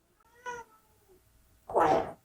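A house cat gives a short meow, then after a pause lets out a louder, harsher yowl, both close by with no one talking.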